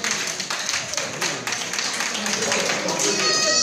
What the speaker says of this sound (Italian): un po' di applausi!